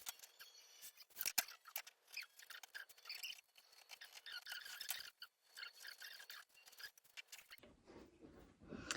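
Scissors snip through Swedish tracing paper while a sewing pattern is cut out, giving a close, irregular run of crisp crunching cuts and paper rustle, with a quieter stretch near the end.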